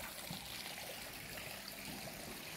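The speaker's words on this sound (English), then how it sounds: "A water feature and a pond." A garden water feature trickles steadily into a pond in a hotel's secret garden in Kent, a soft continuous splash and burble, faint and even, with no voices.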